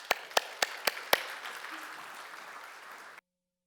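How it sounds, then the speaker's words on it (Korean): A church congregation at a Sunday worship service gives moderate applause, with several sharp, close claps standing out at the start, then fading to softer scattered clapping before stopping abruptly. "박수로 한번 맞이하도록 하죠"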